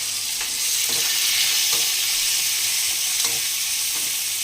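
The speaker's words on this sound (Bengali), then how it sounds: "তেলটা গরম হয়ে গেছে। এর মধ্যে আমি দিয়ে দেবো একটু সুন্দর করে রেখে দেওয়া কেটে নেওয়া এই পেঁয়াজগুলো, ফোড়নে দিয়ে দিলাম।" Chopped onions fry in hot oil with a loud, dense, steady sizzle right up close, and a few faint stirring knocks come through the hiss. No talking is heard.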